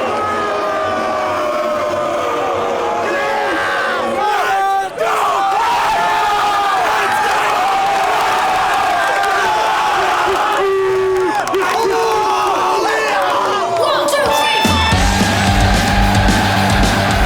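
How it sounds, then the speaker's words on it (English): A packed high school wrestling gym erupting as the Davidson wrestlers enter, with a dense, sustained crowd roar of booing and yelling that swells and surges, voices layered throughout. "Davidson wrestlers just walked in. They're all booing them."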